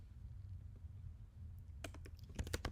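Typing on a computer keyboard: after a quiet hum, a quick burst of close, crisp key clicks arrives near the end, several rapid taps in a loose cluster.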